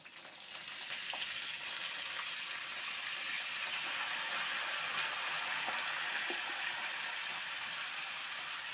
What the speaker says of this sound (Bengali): এখন দিয়ে দিচ্ছি কাঁচা লঙ্কা, দেব বাঁধাকপিটা